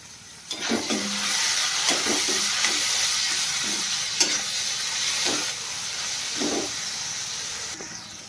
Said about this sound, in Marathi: आणि आपण आता हे टोमॅटो थोडं चांगलं मेल्ट होईपर्यंत त्याला परतायचं आहे तेलामध्ये